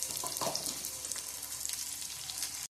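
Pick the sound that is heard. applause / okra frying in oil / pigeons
okra frying in oil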